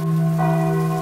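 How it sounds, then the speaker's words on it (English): Bells ringing steadily at night near power lines, a sustained loud metallic tone with bright overtones, heard alone with no talk over it. "Please stop with the bells."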